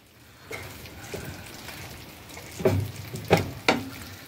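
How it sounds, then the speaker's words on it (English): Asian sesame chicken sizzling in a pan while it is stirred, a low frying hiss with a few distinct spoon scrapes and taps toward the end. "I'm just going to stir it around just a bit to kind of get everything together as far as flavor-wise"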